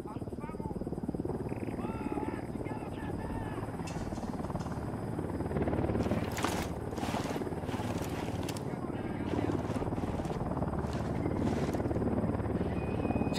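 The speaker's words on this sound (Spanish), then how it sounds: "Se acerca un helicóptero." A helicopter in the video game Ghost Recon Wildlands draws closer, its steady rotor rumble loud and continuous throughout, with a person talking over it.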